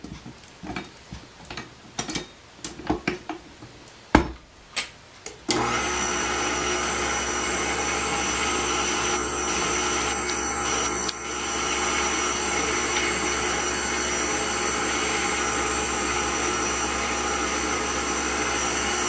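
Electric mixer kneading dough with sugar and baking powder for baghasha, some scattered handling clicks and knocks at first, then the motor starts and runs as a steady loud whir until the end.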